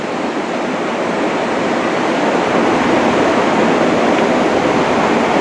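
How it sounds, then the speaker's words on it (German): Water rushes over a weir near Garmisch-Partenkirchen, a loud, constant broadband roar close by with no breaks. "kann ich euch auch dieses Top-Wasser an der Wehranlage nochmal zeigen"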